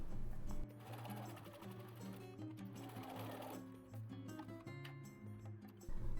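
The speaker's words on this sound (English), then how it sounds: "After, sew along the inseam all the way down." Sewing machine stitching the inseam of elastic-waist shorts, a steady close motor hum with rapid rhythmic needle chatter running almost without pause, starting and stopping briefly at the edges.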